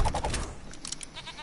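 Sheep Creep enemy bleating in the video game Skylanders Trap Team, a few short nasal bleats close together, then quieter clicky game effects follow.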